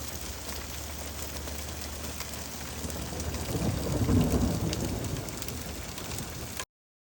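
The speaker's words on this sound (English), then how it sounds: "a July hailstorm moved in that evening" A July hailstorm at Flaming Gorge pours down with a dense patter, and a low rumble of thunder rolls in and swells midway before fading.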